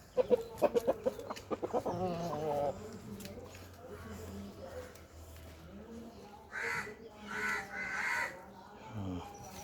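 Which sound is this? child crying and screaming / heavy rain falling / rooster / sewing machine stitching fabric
rooster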